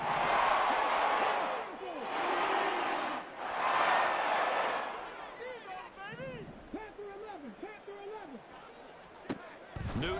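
A home football stadium crowd roars in waves, loud sustained cheering that rises and falls twice before thinning into scattered shouts and whistles.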